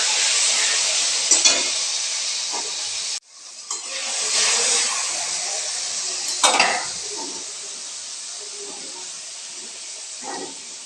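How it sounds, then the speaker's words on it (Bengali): Carrots for fried rice hiss and sizzle loudly in a hot pan, cut off briefly by a pause, then resuming with clattering stirs and scraping of a spatula. "ফ্রাইড রাইসের গাজর ভাজা হচ্ছে"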